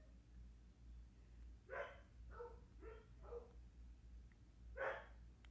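Dogs bark indoors in a house, about five sharp barks in an irregular burst, fairly faint against a low background hum.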